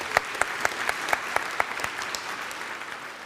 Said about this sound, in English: applause for Zian